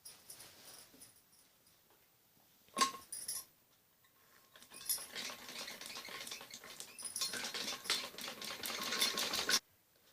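A sewing machine runs in short bursts, stitching around the neckline of a padded blouse. Quiet pauses separate the bursts, then a longer rapid clattering run builds toward the end and stops abruptly.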